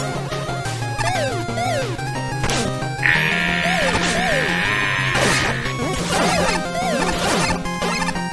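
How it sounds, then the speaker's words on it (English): Fireworks in a Mega Man fan level, Neon Man stage: a run of sharp crackling bursts and whacks scattered over loud, busy chiptune music, with a sustained bright tone partway through. "Fireworks!"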